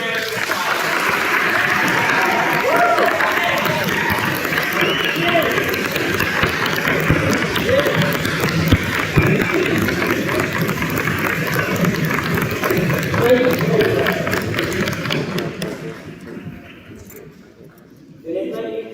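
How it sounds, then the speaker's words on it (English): A school Veterans Day program audience gives veterans a long round of applause, dense steady clapping from a large crowd that lasts about fifteen seconds before dying away, with some voices mixed in. "Let's give a big round of applause."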